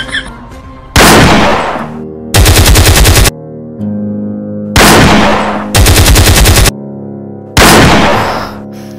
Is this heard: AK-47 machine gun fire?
yes